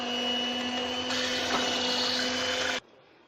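Electric hand mixer whirring steadily while beating whipping cream for a coconut semolina cake, a loud continuous motor whine that steps up in pitch partway through and then cuts off abruptly, leaving near silence.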